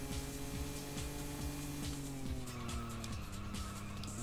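A car in the Sega GT racing game holds a loud engine drone that shifts pitch as it runs, and the tires squeal and skid steadily throughout. No one speaks.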